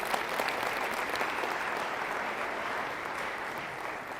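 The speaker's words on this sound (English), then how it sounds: "so give yourselves a round of applause" Students and parents applauding at a high school class information night, a steady, fairly distant wash of clapping that holds evenly throughout.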